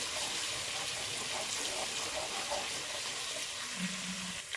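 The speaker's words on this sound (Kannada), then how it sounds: "ಚೆನ್ನಾಗಿ ಸ್ವಲ್ಪ ಹಸಿ ವಾಸನೆ ಹೋಗೋವರೆಗೂ ಫ್ರೈ ಮಾಡಬೇಕಾಗತ್ತೆ" Masala for egg curry fries in a pan with a steady, close hiss and sizzle that continues without a break, and faint scraping in the background.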